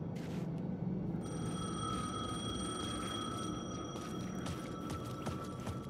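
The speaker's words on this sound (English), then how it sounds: "phone was ringing" A telephone rings with a steady electronic tone inside the video game Alan Wake 2, sustained over a dense, murky ambient background with faint scattered clicks and no talk.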